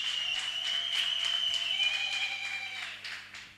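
Studio audience applauding a guest author on a talk show, a steady wash of clapping sustained at even loudness before tapering off at the end, with faint tonal background hum.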